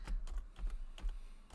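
Quick, irregular clatter of keys being typed on a computer keyboard, about a dozen close-up clicks in short bursts with brief gaps, no talking.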